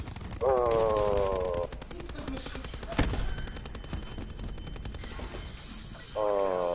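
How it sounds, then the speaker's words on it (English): Rapid automatic gunfire in a PS4 shooter game, a steady stream of quick shots with one sharp louder blast midway, accompanied by tonal game sounds at the start and end, no talking. "I'm gonna shoot you right now though, because I can."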